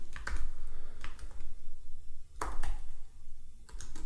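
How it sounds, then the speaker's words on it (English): Python hello world code being typed on a computer keyboard: close, brisk clusters of key clicks in quick bursts separated by short pauses. "I'm going to type the hello world again,"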